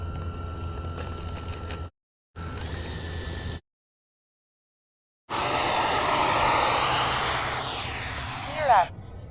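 Freewing F-16 90mm RC model jet with an electric ducted fan flies at an airfield, a steady whooshing roar that swells as it passes and fades away. Brief cuts of silence break it early on, and a voice is heard.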